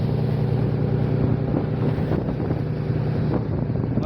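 Boat engine running at sea during a search off the coast for a missing fisherman, a steady low drone with wind buffeting the microphone throughout, continuous and fairly loud.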